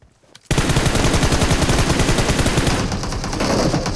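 Loud, sustained automatic gunfire from the battle royale game PUBG Mobile on the Erangel map, bursting in after a short quiet start and continuing as a dense rapid rattle of shots that eases slightly toward the end.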